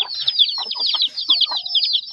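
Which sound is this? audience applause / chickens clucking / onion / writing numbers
chickens clucking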